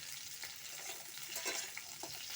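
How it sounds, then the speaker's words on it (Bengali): Cauliflower frying in hot oil gives a soft, steady sizzle with occasional stirring scrapes. It is heard close up and quietly, with no one speaking. "ফুলকপিটা আমার ভাজা হয়ে গেছে"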